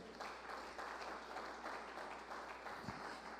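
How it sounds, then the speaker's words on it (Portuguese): A church congregation applauds, a soft, steady patter of many hands heard at a distance and fairly quiet, continuing throughout. "Receba as palmas para Ele."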